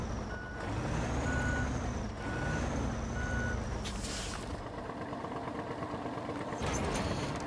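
SnowRunner video-game truck idling roughly, a low rumbling engine running steadily throughout, with a repeating reversing beep over it early on and a brief hiss midway.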